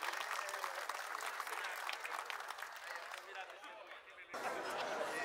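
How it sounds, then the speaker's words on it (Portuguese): An audience applauds at the inauguration of the Barrageiro public market, a bright, sustained patter of clapping that thins briefly toward the end before surging loudly again, with some crowd chatter mixed in. "Mais uma vez, uma salva de palmas"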